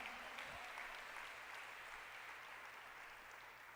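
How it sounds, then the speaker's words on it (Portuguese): A church congregation applauds during a Sunday celebration service, a steady wash of clapping from many hands that fills the room at moderate, even loudness throughout. "Vamos aplaudir a Jesus"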